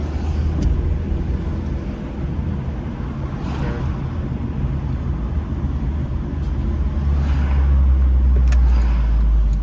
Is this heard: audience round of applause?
no